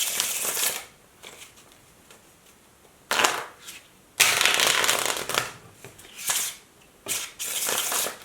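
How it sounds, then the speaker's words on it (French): A normal deck of playing cards being shuffled close up, in several loud riffling bursts separated by brief pauses, with no talking. "j'ai besoin d'un jeu de cartes totalement normal et que nous pouvons bien évidemment mélanger"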